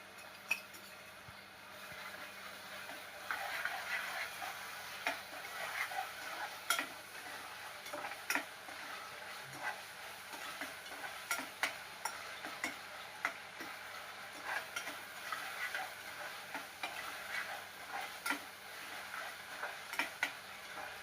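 Ginger garlic paste fries in a pan for a home-cooked vegetable dish, a soft steady sizzle broken by frequent light clicks and taps of a spoon stirring against the pan, fairly quiet, with no talk.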